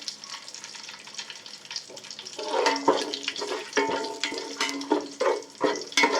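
Cardamom, shahjeera and bay leaves sizzling in hot oil in a pan for egg pulao, a steady crackling fry that grows louder partway through, with short bursts of stirring or clinking over it and no talk.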